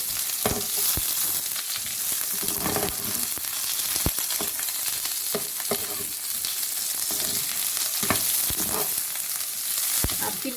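Thick onion slices brown in a hot pan, giving a continuous close sizzle punctuated by occasional spoon clicks and stirring, with no speech.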